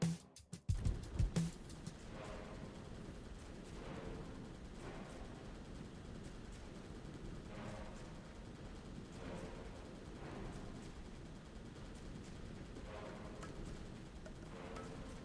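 Mortars fire in an orc horde tower defense video game, opening with a burst of sharp shots and then settling into a steady, regular thumping barrage under a constant noisy bed.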